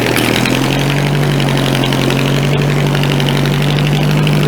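Compact tractor engine straining to drag a big log, a loud steady low drone with a constant hum and no breaks.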